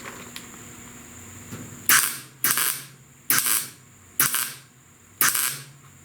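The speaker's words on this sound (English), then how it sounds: "It takes 3 or 4 blasts, maybe 5, you'll watch, to weld up an 1/8 hole like this." A welder fills a small eighth-inch hole in the rear panel of a 1969 C10 truck in five short blasts, each a loud crackling burst about a second long with brief quiet gaps between, over faint background noise.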